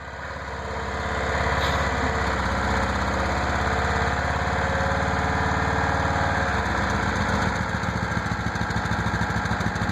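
A Saturn car engine with a failing connecting rod running loudly and steadily, its rapid metallic knocking hammering under a rough, constant idle drone for the whole stretch, close up with no talking.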